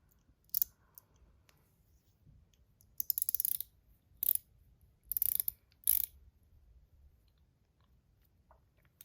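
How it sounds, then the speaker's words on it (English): ACEdc Ratchet Ring fidget toy being screwed together, giving short bursts of dry ratcheting clicks in uneven spurts with quiet gaps between, close up and faint overall. "And then now you basically screw this top part. This is what makes the sound."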